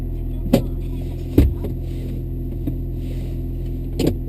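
Porsche Panamera Diesel four-seat sedan, parked outside and just started from cold. Its engine idles as a quiet, steady low hum, broken by a few brief clicks and knocks.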